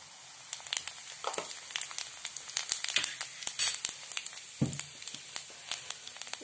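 A spoonful of cumin seeds sizzling in hot oil in a pan, soft steady frying hiss with scattered sharp crackles and pops throughout, close and moderately quiet.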